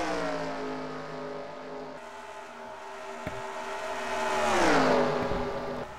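Race cars lapping a track in a NASCAR racing video game, with engines droning in layered harmonic whine that swells and sweeps downward as a car roars past near the end.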